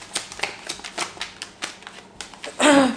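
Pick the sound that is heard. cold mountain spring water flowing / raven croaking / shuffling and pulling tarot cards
shuffling and pulling tarot cards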